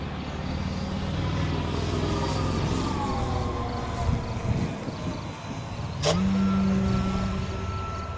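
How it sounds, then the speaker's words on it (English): An electric motor and ESC on a large 118-inch Pober Pixie RC airplane produce a steady whine with a sudden sharp glitch and a brief tone shift near the end, heard outdoors at a distance. "it sounded like it came from the motor or the ESC is causing"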